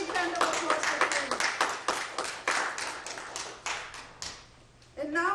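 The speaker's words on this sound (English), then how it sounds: "A big round of applause for" Clapping for an award recipient at a virtual fundraiser, a handful of close, sharp claps in quick irregular bursts that thin out and stop, followed by a voice speaking at the end.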